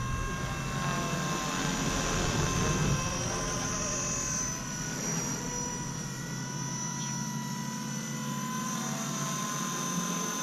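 A Blade 230 RC helicopter flies nearby with a steady, whining rotor and motor drone, its pitch bending up and down slightly as it maneuvers through the air, holding a constant loudness throughout with no one speaking.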